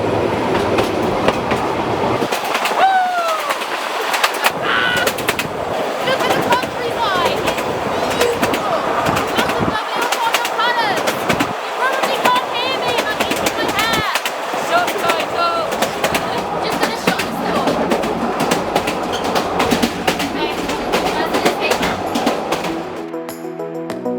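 Mountain train running on rails in Bulgaria, a steady rolling rumble with rhythmic clickety-clack and occasional squeals, continuous throughout with brief quieter gaps and faint talk in places.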